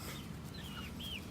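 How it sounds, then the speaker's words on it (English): A backyard rooster gives soft clucking calls, a few short rising notes over steady outdoor background noise, faint and somewhat distant. "He's been crowing all of a sudden"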